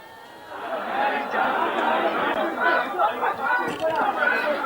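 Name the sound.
crowd of protesters at a demonstration in Mumbai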